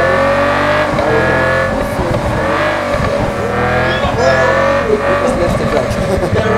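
A race car engine in a racing video game roars steadily and loudly while boosting, with the pitch rising and falling and tires squealing, as someone talks over it.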